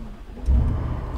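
A Mercedes-AMG G63 V8 engine cranks and fires up, its deep rumble swelling suddenly and then holding at a steady, loud idle close by.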